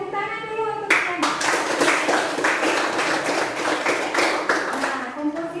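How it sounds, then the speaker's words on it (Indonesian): A classroom of students claps together for a classmate, a burst of dense, fast hand claps starting abruptly after a brief spoken lead-in and continuing steadily for several seconds before trailing off under a voice. "Tepuk tangan dulu untuk Triana."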